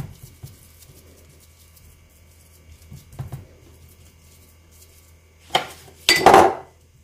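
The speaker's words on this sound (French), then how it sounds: "Vous allez aplatir jusqu'à ce que la pâte remplisse bien le moule partout." Dough is pressed flat into a mould for chamiya pastry, giving a few soft taps and then a couple of louder scraping, clattering knocks near the end.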